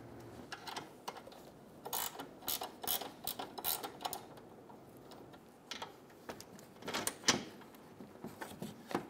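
Snugging down a control arm bolt on a 2011-2014 Hyundai Sonata, a string of faint metallic ratchet clicks and taps coming in irregular bursts against a quiet garage background.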